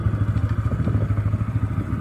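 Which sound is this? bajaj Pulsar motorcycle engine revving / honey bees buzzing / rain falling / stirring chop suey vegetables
bajaj Pulsar motorcycle engine revving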